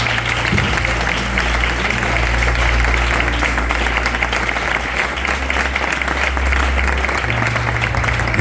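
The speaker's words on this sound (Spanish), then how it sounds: "Dale un fuerte aplauso a Dios ahora." A church congregation breaks into loud sustained applause during a sermon, thick clapping filling the room with a low steady hum underneath and no speech on top.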